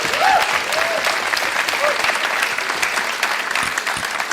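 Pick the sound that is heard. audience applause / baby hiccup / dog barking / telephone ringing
audience applause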